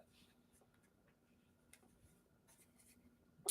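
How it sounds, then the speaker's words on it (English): Pen scratching on a paper pad in a quiet lecture room, soft intermittent strokes and taps, faint and close, with a low steady hum underneath. "I'm writing on a pad here."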